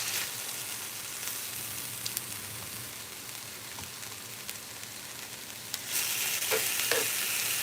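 Steak sizzles steadily on a hot griddle, a continuous close crackle and hiss with a few sharp pops, growing louder and brighter near the end.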